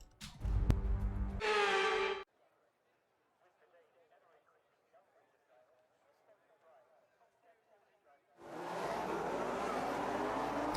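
Racing-game cars launching at the start of the French GP, a loud engine roar that cuts off suddenly, then a quiet stretch with faint murmuring before the engines surge back in strongly.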